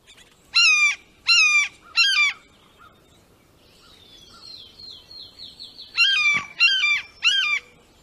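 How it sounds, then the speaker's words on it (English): Loud, harsh calls of a broad-winged hawk come in two sets of three, with a fainter string of high whistled notes in between. "This is actually a broad-winged hawk call."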